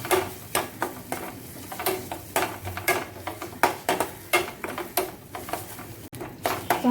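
Ground masala sizzles and gets stirred in hot oil for bhogichi bhaji, with a steady run of spoon scrapes and clinks against the pan and faint frying underneath.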